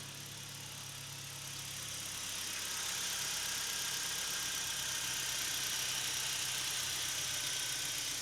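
A BMW E90 engine idles steadily in a workshop after repair work, a smooth continuous hum that grows slightly louder in the first seconds and then holds even, with no talking.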